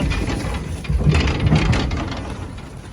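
Tractor engine running in snow while moving cattle feed, a near, uneven mechanical rumble with rattling knocks that rise briefly mid-clip.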